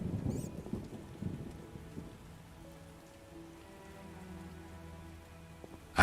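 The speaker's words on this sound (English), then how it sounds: "What a downpour." Heavy downpour with thunder in The Witcher video game, a steady wash of rain with low rumbling that fades slightly midway, no talk over it.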